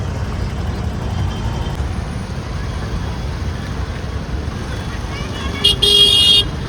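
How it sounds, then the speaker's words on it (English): Heavy road traffic crawls near the cricket stadium in Ahmedabad on match day, a steady rumble of cars, trucks and buses with a burst of horn honking near the end, people talking over it. "but a lot of traffic"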